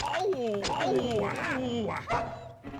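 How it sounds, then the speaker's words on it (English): A dog in Rule of Rose whimpers and yelps after being kicked, giving a run of close, loud, wavering whines and short cries that sweep up and down in pitch. "Oh, don't kick the dog."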